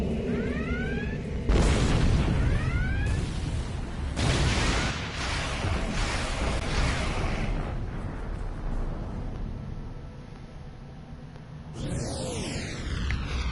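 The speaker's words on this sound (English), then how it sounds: "Launch torpedoes! Full spread!" Torpedoes launch and explode in a space battle in Star Trek Online, with a series of deep booming blasts and whooshes rolling one after another, loud and close, ending with a rising sci-fi sweep.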